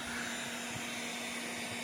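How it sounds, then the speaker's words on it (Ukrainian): A hair dryer runs steadily off a solar panel power supply set up outdoors near trees, a continuous close whirring hum with an even airflow hiss and a constant motor tone throughout. "давайте подивимося, скільки у нас цей фен споживає"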